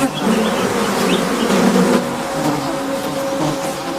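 Bees buzz loudly and continuously close by, a dense droning hum with a slight shift in pitch partway through.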